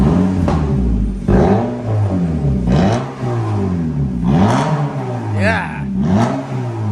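Repeated throttle blips from a 1.8 Honda Civic Type S with a Martelius cat-back exhaust, each rev swelling and falling back to a burbling idle, close and loud, with faint voices in the background.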